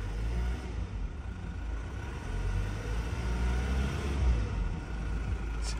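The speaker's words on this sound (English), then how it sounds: "Let's give her a quick rev." A car engine idles and is given a quick rev during an auto auction walkaround, a low steady rumble that swells briefly midway, heard moderately loud outdoors.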